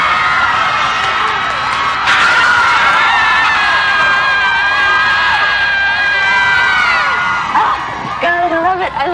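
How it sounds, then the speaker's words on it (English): Students shrieking and hollering out of open dormitory windows during finals week, a dense sustained crowd of screams and whoops across the whole stretch, loud and continuous with overlapping voices. "Everybody takes 10 minutes to open the windows and scream."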